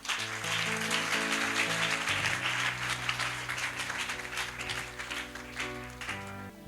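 A church congregation claps together in a steady, dense patter over sustained organ-like music, moderately loud and filling the room.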